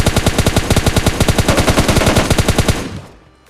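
Sustained automatic UMP submachine gun fire in PUBG Mobile Lite, a loud rapid rhythmic burst of many evenly spaced shots that cuts off and fades out at the end.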